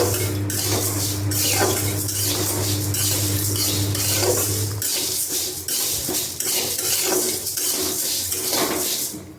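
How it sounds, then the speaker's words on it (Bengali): Coriander seeds are dry roasted in a metal pan, stirred with a utensil that scrapes and clinks in repeated close strokes, with a low hum in the background during the first half. "ধনেটাকেও নিয়ে নিয়েছি, এটাকে হালকা করে একটু নেড়ে চেড়ে নেব।"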